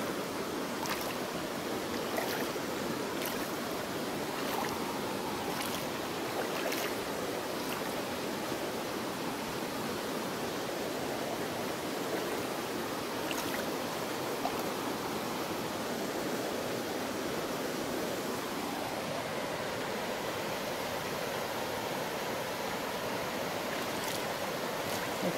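Water in a shallow stream washes steadily around a person's feet, a continuous broad rushing that stays even and fairly loud throughout, with no talk.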